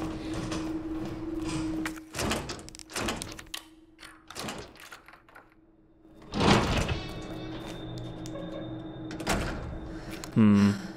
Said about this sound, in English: this is that zombie that's very essentially caressing the door in the press room